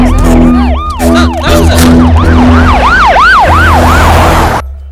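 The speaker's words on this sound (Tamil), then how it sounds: "ராஜுவை இப்பதான் ஆம்புலன்ஸ்ல ஏத்துனாங்க." An ambulance siren wails loudly and close in a Tamil-dubbed film scene, its rising and falling tone repeating in quick cycles before cutting off near the end.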